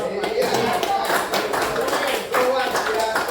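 A group of people clap their hands together, an uneven patter of claps mixed with chatter and voices in a room.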